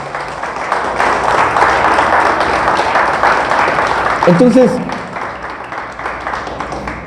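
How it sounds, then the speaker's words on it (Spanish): A church congregation applauds during a sermon on Christian church history, a steady wash of clapping that swells briefly before fading as a voice starts talking over it. "Le damos un fuerte aplauso al Señor."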